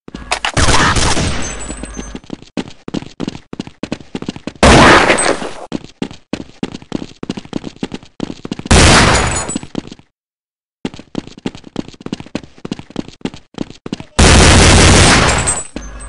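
Counter-Strike gameplay with bursts of loud, close gunfire in rapid volleys, separated by short pauses and one brief silence, with sharp metallic clanks between shots.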